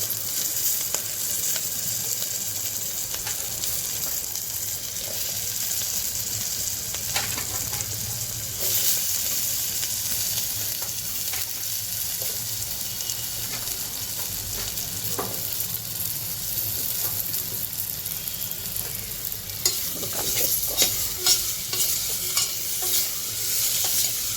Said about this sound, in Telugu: ఒక 2 నిమిషాలు నూనెలో ఆలుగడ్డని మగ్గించిన తర్వాత